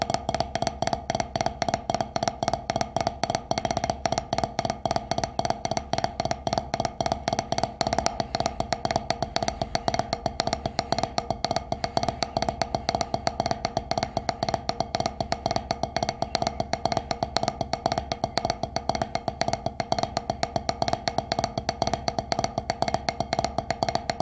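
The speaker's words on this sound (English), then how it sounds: "up to speed from the double strokes through to number 8, the final combination of the paradiddles" Paradiddle and double-stroke drum exercises played on a practice pad, a steady, rapid, even stream of crisp stick taps at close range with no talking, continuing throughout.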